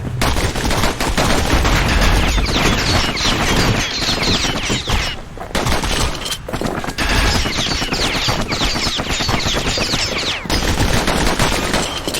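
Rapid, loud shots from a pair of slinger pistols crackle in a fight in the video game Bastion. Dense, continuous volleys are broken only by a couple of brief gaps.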